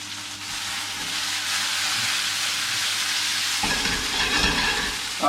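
Potatoes for potato and ricotta gnocchi fry steadily in a pan, giving a soft, even sizzle that carries on without pause, with a lower rumble joining the hiss toward the end.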